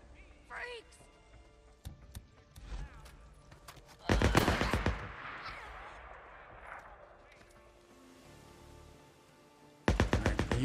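Gunfire in the video game Days Gone, fired in short sharp bursts, one heavy burst near the middle and another at the end, fairly quiet overall, with someone talking in between.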